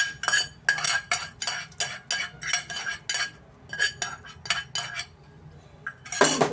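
A spoon repeatedly clinks and scrapes against a metal bowl while tempering is stirred into curd, a quick, close rhythm of taps that ends in a louder clatter.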